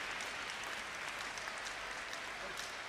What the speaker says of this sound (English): Gets a clap of approval from the Chinese coach and bench.